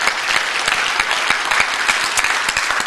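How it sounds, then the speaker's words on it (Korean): A Korean church congregation claps together for God during a Sunday service, a loud, sustained burst of many hands with distinct sharp claps standing out from the steady roar. "우리 하나님께 박수를 한번 올려드립니다."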